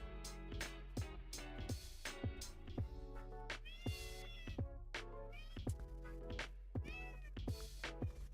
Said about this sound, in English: This is the neighbor's cat.